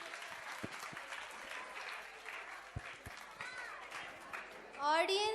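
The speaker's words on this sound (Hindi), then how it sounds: "बच्चे तालियां बजाएंगे।" Children clapping at a school annual cultural program: steady, moderate applause from a young audience with scattered voices and movement underneath, a loud sound swelling near the end.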